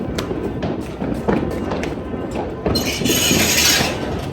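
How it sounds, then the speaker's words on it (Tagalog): New Year fireworks going off nearby, a series of irregular thumps and crackles that build into a dense hissing burst, with excited voices shouting over them. "Ayan na ang fireworks!"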